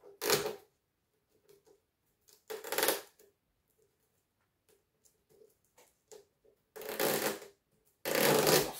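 Four loud ripping bursts of packing tape being pulled off while unboxing a Creality CR10-SE 3D printer, with quiet handling clicks and rustles in the pauses between.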